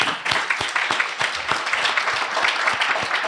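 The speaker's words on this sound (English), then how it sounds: "I want to give applause to my men in the 100" Applause from an audience at a women's health forum, a fairly close crowd clapping with distinct individual claps standing out from the steady patter for a few seconds.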